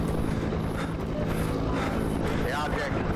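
Steady helicopter rotor drone in an indie horror video game, with a continuous low throb and whooshing air, mixed with faint game sounds, no one talking.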